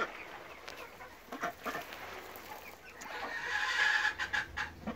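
Several chickens cluck and murmur softly nearby, with scattered short calls and a louder, busier stretch toward the end.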